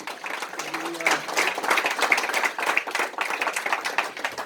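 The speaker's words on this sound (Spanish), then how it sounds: "démosle un fuerte aplauso" Church congregation clapping together during a Christian sermon on marriage, a dense, steady patter of many hands with faint voices mixed in, lasting throughout.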